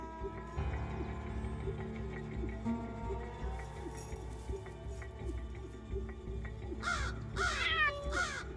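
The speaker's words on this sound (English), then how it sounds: "Crows have different warning calls" Crow warning calls, a few harsh caws standing out near the end over a busy outdoor background of other birds and ambient noise in the wild.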